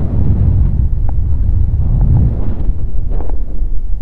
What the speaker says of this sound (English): it's really windy, so I'm hoping this microphone's doing good